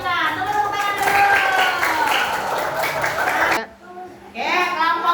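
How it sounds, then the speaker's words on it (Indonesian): Children in a classroom clap their hands before a group game, brisk clapping mixed with excited kids' voices and chatter, cutting off abruptly for a moment before voices pick up again. "Tepuk tangan dulu"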